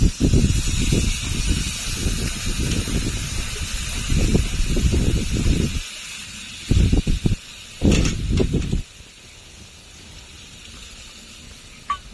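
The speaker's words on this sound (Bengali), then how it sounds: "এখন জল দিয়ে দেব" Water poured into a pan of spiced sautéed vegetables for potol chingri, pointed gourd with prawns, hissing and sizzling loudly at first, then bursts of bubbling that fade into a softer steady simmer, no speech.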